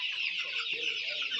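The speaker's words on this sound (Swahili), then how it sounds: "Leo kuku zinanipiga walai." Chickens cluck busily around a feeder, a dense overlapping chorus of close fowl calls that continues without pause.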